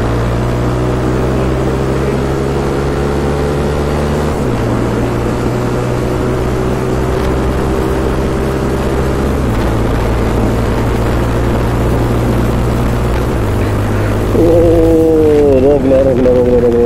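A motorcycle accelerates hard on an empty road, a loud, close engine drone that climbs and steps down through several gear changes, with wind rushing throughout.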